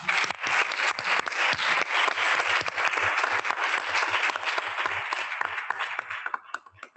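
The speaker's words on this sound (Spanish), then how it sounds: "Un aplauso." Audience applause at a talk on decoloniality and intersectionality, steady dense clapping holding for several seconds before tapering off near the end, with no voices over it.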